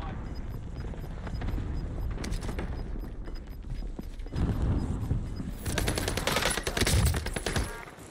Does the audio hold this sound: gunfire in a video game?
yes